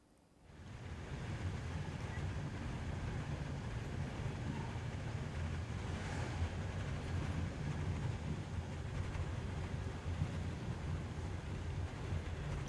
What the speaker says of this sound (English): We're on a train in a tunnel.